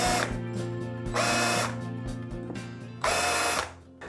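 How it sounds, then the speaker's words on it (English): A power tool cuts a slight chamfer around holes in a Firebird-style guitar body, with three loud bursts of high-pitched whirring and a quieter motor hum running between them. "I'll just reinstate the slight chamfer that I always put around these holes."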